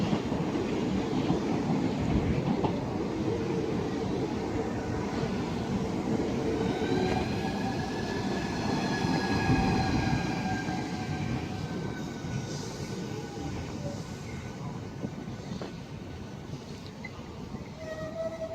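A Class 395 Javelin high-speed train arrives at Faversham station, a steady rumble of wheels and motors with rising tonal whine and squeal as it slows alongside the platform, continuous and fairly close with no talk.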